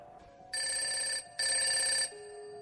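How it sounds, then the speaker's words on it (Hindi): A mobile phone rings inside a car, two loud, bright electronic bursts with a short gap between them, close and clear, with no talking. "लगभग कुछ 20 मिनट ही हुए होंगे गाड़ी में बैठे हुए कि रिया का फ़ोन बजने लगा।"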